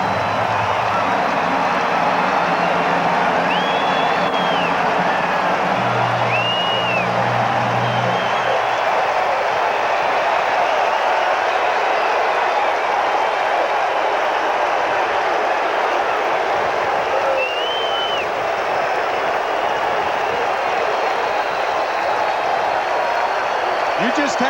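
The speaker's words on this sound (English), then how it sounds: "This crowd brought to life by the blast by Darryl Strawberry" A baseball stadium crowd at a Mets game against the Pirates in 1990 roars in a loud, sustained wash after a Darryl Strawberry home run, with faint whistles over the din.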